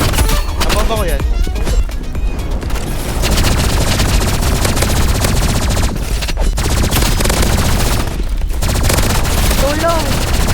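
Rapid machine gun fire in the Roblox Rivals shooter game, dense and continuous bursts over a steady game soundtrack, with people talking excitedly throughout.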